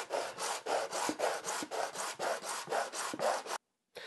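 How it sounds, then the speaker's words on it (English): Hand sanding on a wooden router base jig for a trim or palm router makes about a dozen close, even, rhythmic rubbing strokes, then a brief pause before one more stroke begins. "I'm finding there's also nothing like a little bit of hand sanding to make it just perfect."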